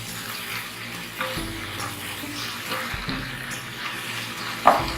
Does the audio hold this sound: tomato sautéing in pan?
yes